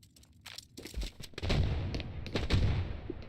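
A grenade blast with its kill sound in a competitive tournament shooter: several sharp explosive bangs, then a heavy rumbling burst swelling from about halfway through and holding loud to the end, with bright crackling transients on top.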